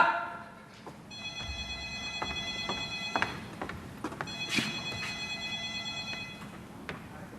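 A telephone rings in two electronic bursts, moderately faint and slightly distant, with light background clatter and no talking.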